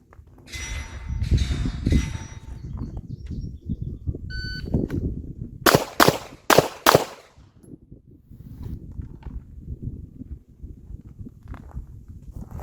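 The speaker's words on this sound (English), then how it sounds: "String 1, draw and fire 2 rounds on each target in 5 seconds." Handgun shots on an outdoor police qualification range at the 5-yard line: four sharp, loud cracks fired in quick succession, with quieter handling noises and footsteps before and after.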